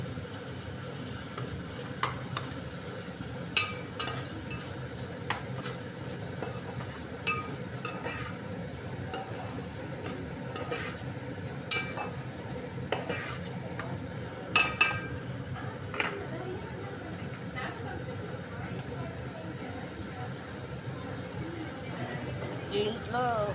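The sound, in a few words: ginger garlic paste frying and being stirred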